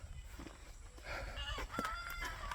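Turkeys call faintly on a homestead in a few short, warbling notes over a steady, low background hum.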